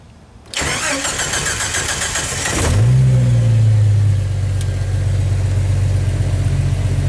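A cold Jeep Wrangler YJ engine cranks for about two seconds, catches and revs up, then settles into a loud, steady idle, recorded up close.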